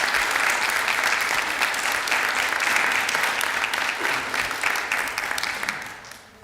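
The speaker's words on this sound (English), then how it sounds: "Let's give her a big round of applause." Audience applause fills a town council meeting, a steady dense clapping that holds for about five seconds and then thins and fades away at the end.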